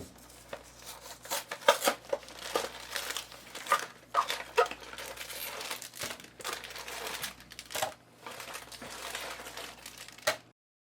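Crinkly plastic packaging of Oreo cookies is torn and rustled open in a kitchen, with repeated close crackling and crumpling bursts over about ten seconds and no talk.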